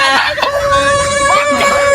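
A person's voice imitates a rooster's crow, a drawn-out, wavering call, loud and close with no other sound around it.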